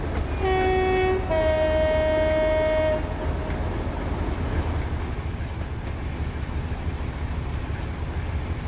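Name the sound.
Class 58 locomotive horn in Train Simulator video game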